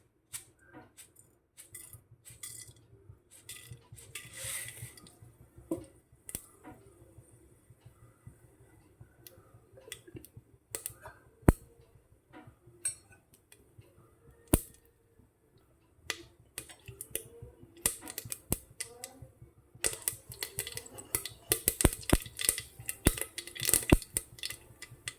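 Mustard seeds spluttering in hot coconut oil for Kerala-style kadala curry, a scattered run of sharp pops and crackles over a low steady hiss, bunching more densely toward the end.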